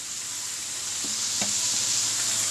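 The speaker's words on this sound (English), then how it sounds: "I couldn't wait for another frying pan, so I put it in there with the old beef. So it's frying in someone else's juices too." Zucchini fries in a pan with leftover beef, giving a steady bright sizzle with a couple of soft taps from stirring, close and even with no voices.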